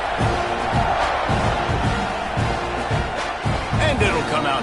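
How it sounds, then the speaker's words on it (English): A video game stadium crowd in NCAA Football 26 swells in a steady roar with scattered shouts, heard under commentator talk. "You think this crowd's going to get loud when their defense comes on the field?"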